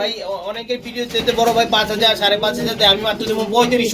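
Pigeons coo continuously at a pigeon farm in old Dhaka, with a dense, steady layer of overlapping throaty coos from many birds close by and someone talking over them.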